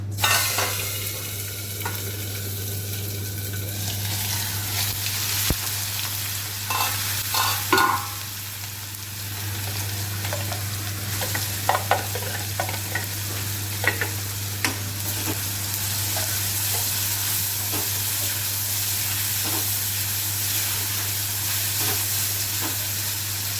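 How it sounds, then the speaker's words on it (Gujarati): Onion and tomato frying in a turmeric and green chili tempering, stirred with a utensil: a steady sizzle runs throughout with scattered scraping clinks, alongside a constant low electrical hum and no talking. "ડુંગળી ટામેટા વઘારી લઈશું।"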